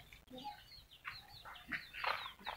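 Chickens cluck and chatter softly in a wooden coop, a busy mix of short calls, quiet and close.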